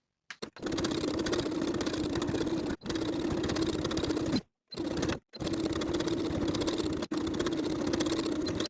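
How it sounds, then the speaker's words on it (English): A sewing machine runs a narrow zigzag stitch joining the sleeves to a V-neck T-shirt bodice, a steady close mechanical whir in long bursts with brief pauses as the seam is repositioned. "Now I'll sew each of the sleeves to the bodice with a narrow zigzag stitch and a 3/8 inch seam allowance, repeating on both sides"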